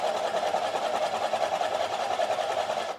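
A wood lathe spins steadily while a tenon is turned down, giving a continuous whirring hum with faint cutting texture, close and even throughout before it cuts off at the end.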